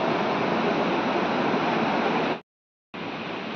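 The swollen Mandakini river in the Kedar valley, high with rain and snowmelt, roars as a loud, steady, close rush of water that drops out briefly and then resumes.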